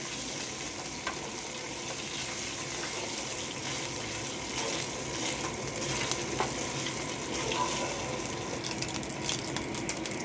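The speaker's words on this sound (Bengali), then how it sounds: "একটু আদা পেস্ট দিয়ে প্রথমে একটু হালকা করে ফ্রাই করে নেব।" Ginger paste fries lightly in a pan while making chilli baby corn, giving a continuous broadband hiss and crackle that stays even and close throughout, with no voices.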